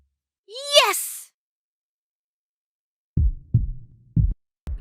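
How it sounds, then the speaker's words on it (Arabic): A heartbeat sound effect from CapCut for PC plays as a few deep, short thuds in an uneven pulse, loud and close, after a brief rising vocal sound, with no talking. "ده نبضات القلب يا شباب"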